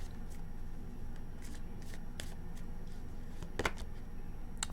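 Tarot cards are shuffled in soft, scattered slaps and flicks, with one sharper riffle near the end, close and fairly quiet with no speech.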